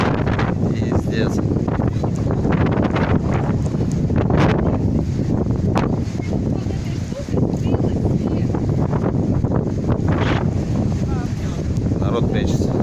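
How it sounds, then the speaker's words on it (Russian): Strong wind roars and buffets the microphone continuously on a beach in Blagoveshchensk, a loud unbroken rush with gusts, while someone talks over it. "Ветрище."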